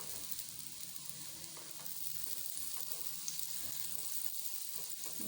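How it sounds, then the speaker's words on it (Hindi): A paratha spread with ghee fries on a flat pan, giving a soft, steady sizzle with faint crackles throughout, quiet and close with no talking. "आराम से पराठा पकाइएगा, बहुत ही मज़े का बनेगा।"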